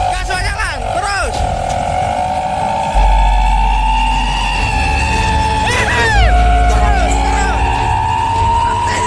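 An overloaded truck's engine drones steadily while it labours up a steep incline. Brief horn-like tones rise over it at moments, and people talk and shout nearby throughout.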